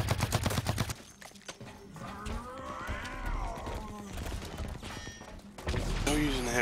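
Heavy assault rifle fire rattles in loud sustained bursts during video game play, with a brief pause near the start and overlapping in-game sounds throughout.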